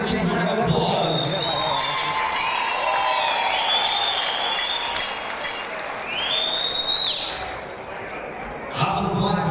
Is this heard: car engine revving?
no